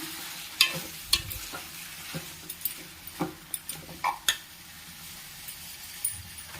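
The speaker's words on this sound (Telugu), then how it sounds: "అల్లం బాగా ఫ్రై అయిపోయిందండి ఇప్పుడు చికెన్ వేసేసుకున్నాము బాగా కలుపుకొని" Chicken pieces fry with ginger in a pan, a low sizzle broken by sharp clinks and scrapes of a spoon stirring against the metal, close and intermittent, no talking.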